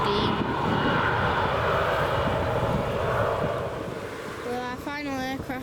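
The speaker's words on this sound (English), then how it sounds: "It's going to be this little jet." Small jet aircraft at Manchester Airport, its engine roar loud and steady, broad and sustained throughout, easing slightly near the end as a voice begins talking over it.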